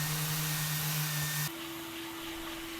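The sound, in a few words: vacuuming dust off finished wooden terrace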